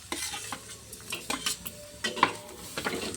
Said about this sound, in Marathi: मिरच्या पण छान भुजल्या आणि त्यात थोडंसं लसूण आणि अद्रक भुजून घेऊ।